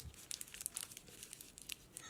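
Crinkly crumpling of a Halloween candy wrapper being balled up by hand, a quick run of sharp crackles and rustles heard close up and alone.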